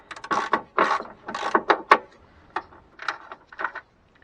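Wrench ratcheting a nut off a PT Cruiser battery terminal, a quick run of close, sharp clicking bursts with short pauses between them.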